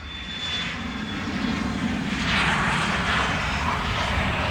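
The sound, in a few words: airplane departing at Farnborough Air Show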